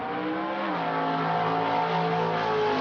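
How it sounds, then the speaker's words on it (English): A muscle car's engine revs steadily as the car drives past, a sustained droning roar whose pitch shifts slightly as it goes by, loud and close with no talking. "the sounds of these muscle cars"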